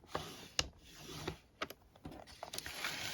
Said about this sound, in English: So I'm just going to slide this into my paper trimmer. And we are going to score it at 2 1/4 inches.